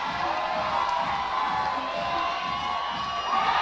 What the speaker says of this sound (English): the crowd is exploding here for the hometown girl, Katie Lamb